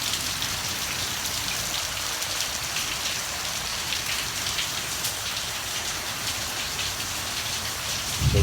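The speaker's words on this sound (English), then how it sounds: "The rain was sheeting off of that roof with the wind." Heavy rain sheeting off a roof in wind, a steady dense hiss and patter that stays constant and loud throughout, with no voices.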